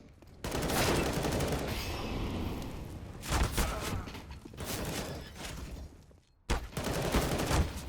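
Rapid rifle fire in a Counter-Strike match, dense crackling bursts that come and go over several seconds, loud and fairly close, with a brief silent gap before another burst.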